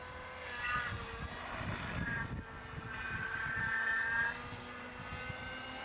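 A remote-controlled helicopter's steady whirring rotor with a high-pitched motor whine that rises and falls, close by and continuous, with no talking.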